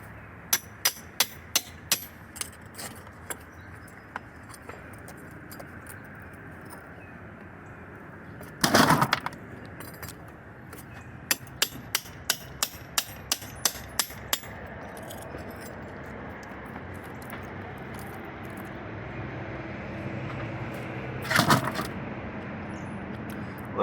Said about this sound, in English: Crown can be taken apart with a chisel and a hammer.